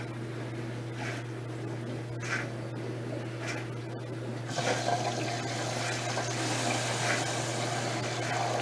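An LG Prime III 8.5 kg washer-dryer (WD-W1485AD) fills with water: three short gushing bursts, then a steady continuous rush of flowing water over a constant low mechanical hum, heard up close.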